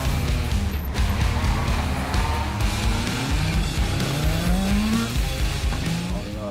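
An 1980s Group B rally car engine roars loudly and continuously, rising in pitch as it accelerates, with tyre squeal and skidding noise mixed into the close, harsh drone.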